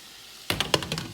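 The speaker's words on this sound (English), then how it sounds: "So the fish is frying." Red snapper frying in a pan for a seafood boil begins abruptly with a burst of crackling pops and spitting sizzle, several sharp snaps in quick succession, close and fairly quiet.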